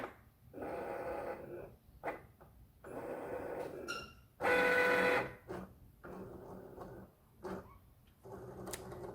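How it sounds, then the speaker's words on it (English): A Cricut cutting machine scans printed black registration lines on paper, whirring and buzzing in short motorized bursts separated by pauses, with one louder, steadier run in the middle. "You'll see the machine will read those black lines."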